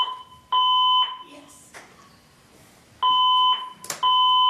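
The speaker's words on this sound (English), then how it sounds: "Is this a fire alarm? Is that the fire alarm? It is." A building fire alarm goes off during a county commissioners meeting: loud, steady electronic beeps in two long bursts separated by a quieter gap, with a brief voice and room noise in between.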